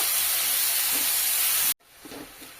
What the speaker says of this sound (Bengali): 2টো মিডিয়াম সাইজের পেঁয়াজ কুচি করে রেখেছি, দিয়ে দিলাম। কিছু সময় ভেজে নেব।